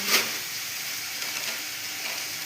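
Black cumin seeds sizzle steadily in hot oil in a pan, a soft continuous crackling hiss with a brief louder spit near the start.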